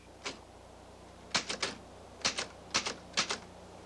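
Typewriter keys struck in short clustered bursts of two or three clacks, separated by brief pauses, close and fairly quiet in an otherwise still room.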